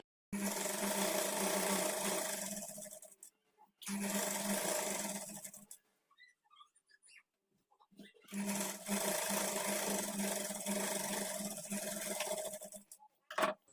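An electric sewing machine stitches lehenga lining in three steady bursts of close, whirring motor and needle chatter, separated by brief pauses with faint handling noise.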